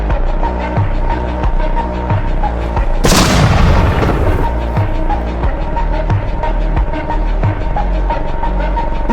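A 1,000 lb bomb goes off while demolishing a house. One sudden, loud broadband blast rises over a steady mechanical background and quickly fades back into it.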